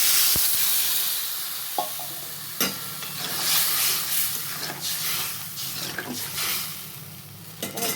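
Water poured into a hot pan for a sour mango fish curry, a loud close hiss and sizzle with scattered clanks of stirring, no voices.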